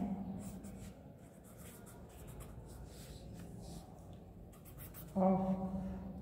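A pen or pencil scratches across paper while working out a maths mensuration problem, a soft continuous rubbing close by with light strokes, and a voice briefly speaks near the end.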